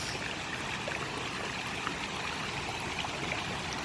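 Soft, steady flow of creek water, a faint continuous trickle and rush with no speech over it.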